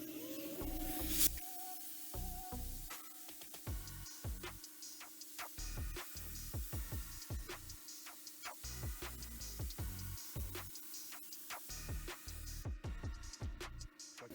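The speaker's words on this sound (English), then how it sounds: "I'm gonna go in and spray our fabric" Bursts of spray adhesive hissing from a nozzle onto suede headliner fabric for a Chevy Silverado, repeated short sprays over a steady hum, close by with clicks between.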